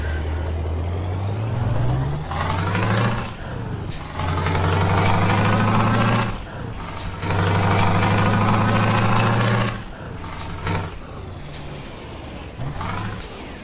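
A Volvo FH truck engine from an Euro Truck Simulator 2 mod rumbles loudly and steadily, revving up and settling back down several times. Sharp air brake hisses and clicks break in along the way, and nobody speaks.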